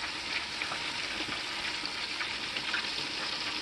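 Breaded Jamaican spicy chicken frying in a Farberware deep fryer, a dense continuous hiss of bubbling oil at a steady level, close by with no voices.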